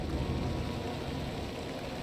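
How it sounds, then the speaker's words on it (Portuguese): Rain in a video game trailer, a steady soft hiss of falling rain that runs evenly and faintly throughout, with no talking. "Tá chovendo, mano."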